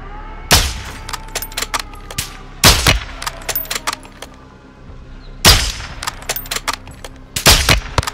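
Rapid gunfire from Call of Duty Modern Warfare II, loud bursts and single shots cracking in repeated volleys with clanging impacts, close and dominant, with no talk over it.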